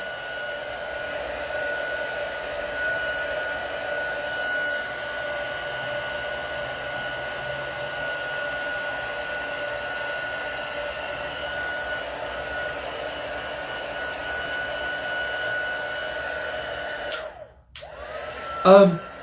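A one-speed heat tool blows steadily over a mixed media board, a constant loud whirring drone that cuts off abruptly near the end, followed by a brief click and a short burst as it restarts.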